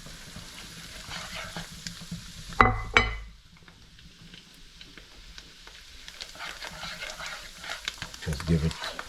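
Chopped cilantro drops into melted butter in a pan for garlic parmesan wings, setting off a sharp burst of sizzling that fades to a quiet frying hiss, with a few stirring clatters and talk around it.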